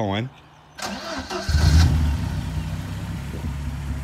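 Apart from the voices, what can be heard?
Ford Sierra RS Cosworth engine starting and idling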